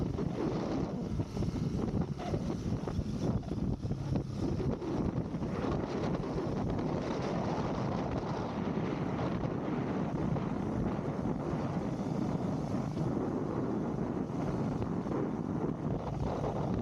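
Steady, loud wind buffets the microphone nonstop on a road trip from Valenzuela to Pagudpud, a constant roaring rush with no voices.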